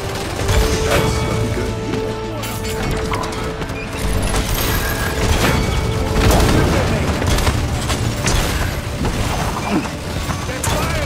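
Gunfire and explosive booms from the video game Paladins, dense and loud throughout with repeated sharp impacts over a busy battle mix, while a player talks over it.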